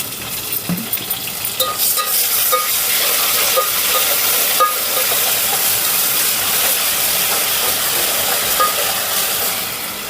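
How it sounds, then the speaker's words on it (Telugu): Onions frying in a pan for bagara rice as ginger garlic paste goes in, a loud, close sizzle with scraping stirs and spoon knocks running throughout. "ఉల్లిపాయ వేగాక బగారా రైస్కి సరిపోయినంత 2 స్పూన్ల అల్లం వెల్లుల్లి పేస్ట్ వేసుకోవాలి."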